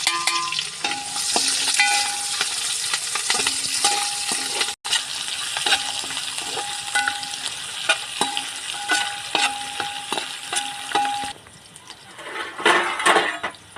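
Sliced onions and green chillies fry loudly in a pan for chicken pulao, a dense close sizzle broken by repeated scraping stirs and a brief pause, with the frying settling quieter toward the end.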